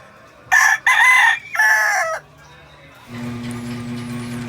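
A pet rooster crows loudly and close by in three strong bursts, a short pause between each, followed by quieter low background noise.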